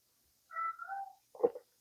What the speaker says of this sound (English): You probably hear my cat in the background over here.